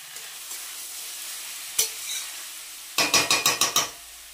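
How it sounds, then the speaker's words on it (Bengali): Chickpeas and grated coconut being mixed with spices in a pan, with a faint steady sizzle, one sharp scrape, then a quick run of about six loud, rhythmic spatula scrapes and knocks against the pan near the end. "তো এবার আমি এটাকে এই মশলার সাথে ভালো করে মিশিয়ে নিচ্ছি"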